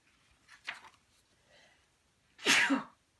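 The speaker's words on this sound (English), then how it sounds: "That sneeze." A single loud, close sneeze bursts out, preceded by a softer sharp intake of breath and a faint sniff in an otherwise quiet room.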